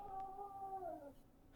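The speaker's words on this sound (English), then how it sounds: "Dude, that was my cat." A domestic cat lets out one strange, drawn-out yowl, lasting about a second and sliding downward in pitch. It sounds quiet and somewhat distant over faint background noise.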